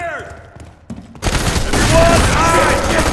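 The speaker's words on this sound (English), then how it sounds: "4-gauge shotgun." A 4-gauge shotgun fires in the shooter game FEAR 3, a loud broadband blast around the one-second mark followed by dense, sustained gunfire and combat noise, with a faint voice underneath.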